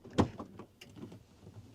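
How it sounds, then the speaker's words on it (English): A door opens at night in a forest setting with a sharp clunk followed by softer rattles and a creaking movement, close and alone. "I'm opening the door."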